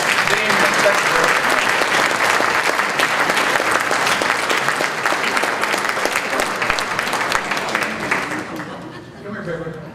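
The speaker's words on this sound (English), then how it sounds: "we should give Rich a great hand of applause for being the secretary" Loud, sustained applause from an audience at a high school hall of fame ceremony, a dense wash of clapping that fades slightly at the end.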